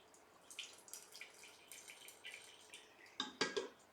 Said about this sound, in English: you can tell already that there is whey dripping out the bottom here